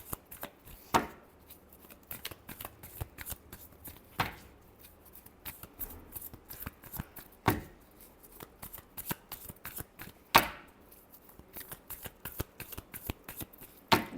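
Tarot cards are being shuffled by hand, with quick riffling bursts and soft slaps repeating at irregular intervals, close and fairly quiet, with no talking over them.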